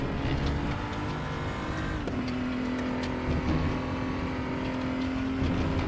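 A BMW M235i Racing car at full throttle on the Portimao circuit gives a loud, continuous engine roar heard from inside the car. The pitch climbs steadily, dips briefly at a gear change, then keeps rising.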